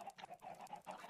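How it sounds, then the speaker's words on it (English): Chickens on a Minecraft egg farm cluck in quick, repeated short calls, faint and close together over about a second, with no one talking. "Those chickens here are just producing eggs."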